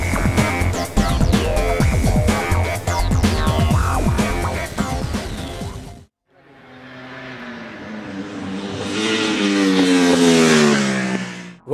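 A Ducati 1199 Panigale superbike rides the Mugello circuit, its engine howling through rapid gear changes up close before a cut, then a long rising wail as it accelerates hard down the track.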